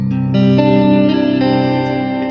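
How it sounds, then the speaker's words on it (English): Electric guitar played straight into a Fender Super Reverb amp, then through delay and reverb, ringing sustained chords that shift every half second or so and trail off in echoing tails, loud and clean with no talk. "It's literally just a guitar straight into a super reverb"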